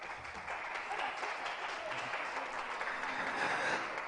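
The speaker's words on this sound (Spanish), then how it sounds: "Fuertes los aplausos" Steady applause from an audience at a Bolivian album launch event, a dense wash of many hands clapping at an even level for about four seconds with no voices over it.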